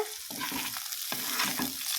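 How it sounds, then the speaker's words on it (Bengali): Steady, close sizzle of bitter gourd frying in hot oil, nearly done, with a few stirring scrapes breaking through the continuous crackle. "এই দেখো উচ্ছে ভাজাটা প্রায় হয়ে এসেছে"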